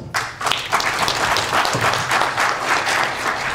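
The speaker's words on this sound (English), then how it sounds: "So let us welcome him with a round of applause." A round of applause from an audience at a Stanford University summit on Ethiopia's political crisis, loud, dense clapping starting abruptly and continuing steadily.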